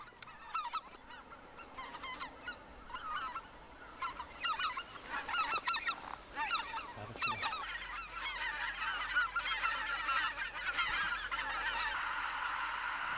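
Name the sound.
large flock of wild geese honking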